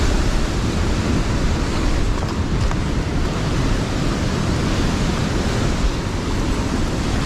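Powerful ocean waves roar continuously from the shore, a dense, loud, steady wash of surf with wind noise and no voices.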